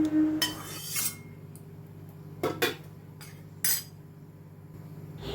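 Egg bhurji is spooned from a kadai into another pot, giving a few sharp metal utensil clinks and scrapes spaced out over a quiet kitchen background.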